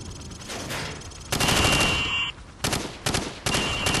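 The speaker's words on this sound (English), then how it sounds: "Now, shoot at the targets while firing from the hip." A rifle in Call of Duty 4 is fired from the hip at targets on a training range, in several loud, close bursts separated by short gaps.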